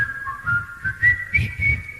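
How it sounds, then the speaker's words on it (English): A group of people whistle a tune together into a microphone at a live music show, a steady, wavering melody over soft, rhythmic thumps of wind or handling noise. "you try and whistle into a microphone and the wind hits it and comes back"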